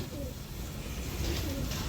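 Pet pigeons offered for sale cooing softly at close range, low repeated coos over a faint background hum, with a voice briefly audible.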